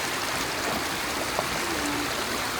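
Steady rushing babble of water flowing in a small creek on a morning hike, close and continuous, with faint splashes on top of the broad wash.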